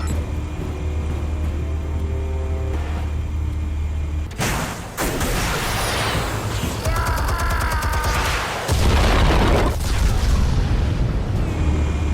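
Explosion in the Batman Telltale video game: a sudden broadband blast near the middle cuts through a steady low game score, followed by rumbling debris and a second loud burst, with no talk.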